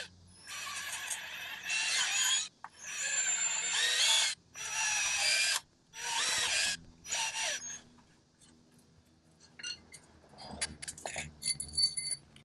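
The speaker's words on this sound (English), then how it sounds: "I think I'm actually going to drill some holes around this rubber to relieve the pressure" A drill bores holes into the rubber bushing of a rear sway bar link on a 2000 Land Cruiser UZJ100, running in several loud close bursts of whining, grinding hiss with short pauses, then fading to scattered handling clatter.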